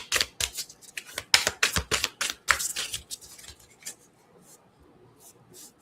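Rapid crisp riffles and snaps of a stiff tarot card deck being shuffled close up, in bursts that gradually soften and thin out toward the end.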